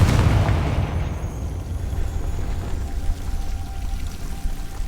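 A Confringo fire spell blast in the video game Hogwarts Legacy: a loud, broad burst at the start that rolls into a sustained crackling rumble, fading slightly over several seconds with no talking.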